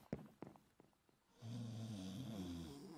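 In a Minecraft-style animation, a few soft scattered bumps give way to a single loud, drawn-out snore with a low rattling rumble.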